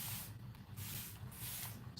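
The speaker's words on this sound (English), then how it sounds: "I'm just gonna spray" A hand spray bottle mists hydrogen peroxide onto the roots of an indoor hydroponic garden plant, giving several short, close hissing bursts separated by brief pauses.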